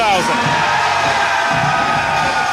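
Wrestling crowd at a Limitless Wrestling show in Westbrook cheering and yelling in a steady, loud roar of massed voices that fills the whole hall without a break.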